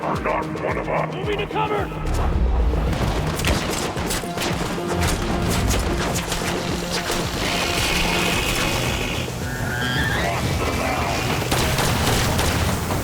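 Bursts of gunfire and mechanical clanks from the PS VR2 game Synapse mixed with a busy soundtrack, steady and dense throughout, with no speech.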